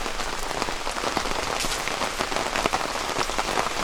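Heavy rain pours down steadily at an autumn campsite, a dense hiss of drops pattering on surfaces nearby with no voices.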